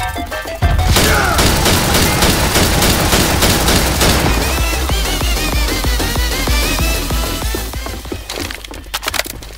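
Continuous rapid gunfire from several players' weapons aimed at a Tank in Left 4 Dead 2, a loud dense fusillade of overlapping shots that thins out toward the end.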